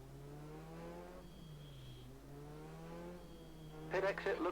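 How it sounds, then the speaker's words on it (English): A race car engine in a racing video game revs and drones through gear changes, its pitch climbing, dropping and climbing again, with a brief burst of noisy tire or kerb sound at the end. "cut some race laps here and just see how hard I can push the car on this setup before the tyres give up."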